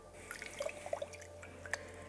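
Pour-over coffee, 15 g of grounds with about 246 g of water, finishing its drip through a paper filter: soft, scattered drops fall at an uneven pace over a low steady background hum, with no voices.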